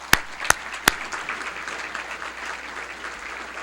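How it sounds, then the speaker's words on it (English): An audience at a county government address bursts into applause, opening with a few sharp, loud claps before settling into moderate, steady clapping from a crowd. "You give them a round of applause, please."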